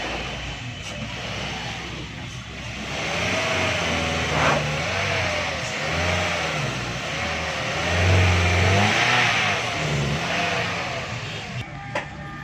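A car's engine is revved on a test run after its clutch plate was replaced, on a rainy day. The mid-pitched engine climbs and falls through several revs, rising to its loudest near the end, with no talking.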